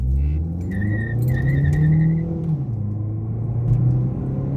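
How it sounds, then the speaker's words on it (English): A 2018 Ford Focus SE pulls away hard from a standstill, its engine rumbling and revving loudly from inside the cabin, the pitch climbing and then dipping at a shift, with a brief high whine near the start. "You gotta stab the gas pedal."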